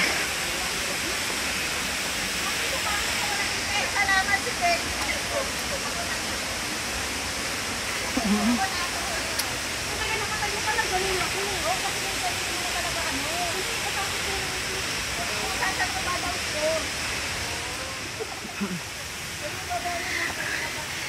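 A waterfall roars in a broad, constant rush of water at the second falls along Lamcam Road, steady and fairly loud throughout with no clear voices over it.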